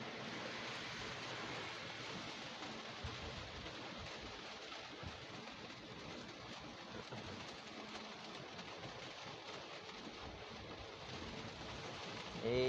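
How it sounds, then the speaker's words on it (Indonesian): Heavy rain pours on a flooded road in Tanjung Pinang, a dense continuous hiss of water heard from inside a moving vehicle, steady throughout with a slight rise at the very end. "Iya, masih hujan lebat ya di Tanjung Pinang ya."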